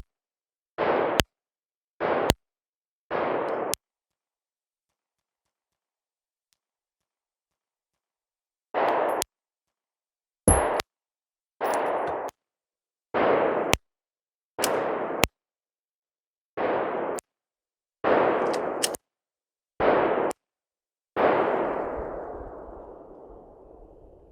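An AR pistol fires about a dozen sharp, loud single shots at a shooting range, spaced irregularly with a long pause early on, each a crisp crack, and the last one rings out with a longer echoing tail.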